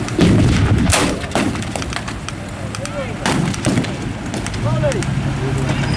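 A 37mm gun on a half-track and a British 17-pounder trade fire in a reenactment battle at a war show, with loud heavy booms at the start and further sharp blasts amid outdoor crowd noise and engines.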